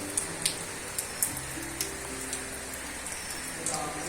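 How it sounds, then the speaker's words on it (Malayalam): Heavy rain pours steadily outside a house in Kerala, a dense even hiss with a few faint sharper drips, and no voices. "ഫുള്ള് മഴയാണ്, അത് കാരണമാണ് ഒരു ക്ലിയർ ഇല്ലാത്തത്"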